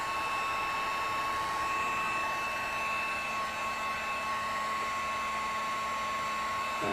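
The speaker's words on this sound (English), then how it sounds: "And I heat gunned that too." A heat gun blows hot air to dry ink, giving a loud, steady, unbroken whooshing roar with a fixed whine that runs the full length.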